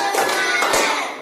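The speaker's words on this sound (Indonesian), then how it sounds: "sekarang sebelum lanjut kita tepuk semangat lagi" Hand claps in a classroom 'tepuk semangat' clap routine, a group clapping together in a quick counted rhythm with a couple of sharper accented claps, fairly close and steady, with no voices.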